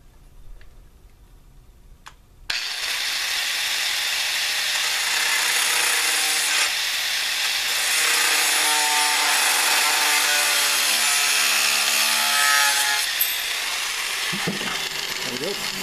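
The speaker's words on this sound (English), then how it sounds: "As soon as I plug in this grinder." Power grinder shaping a wooden knife handle, starting abruptly and running loud and continuous with a steady high whine and abrasive rasp, spinning down near the end.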